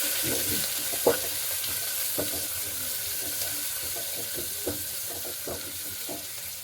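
Sliced large onions sauté in a pan under a steady hiss of sizzling oil, with occasional spatula scrapes and taps, close and continuous, no talk.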